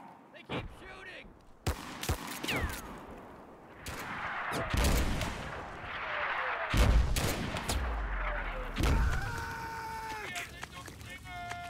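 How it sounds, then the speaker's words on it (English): Gunfire in a chaotic shootout, sharp close shots and bursts of rapid fire mixed with distant rumbling blasts, interrupted by shouting voices and scuffling movement throughout. "They're shooting at us."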